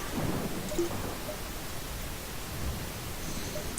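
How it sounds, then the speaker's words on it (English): Storm ambience in the spaceship game Faster Than Light: a steady, dense wash of rumbling noise without pauses, with no talk over it. "Like getting out of this storm would be fantastic."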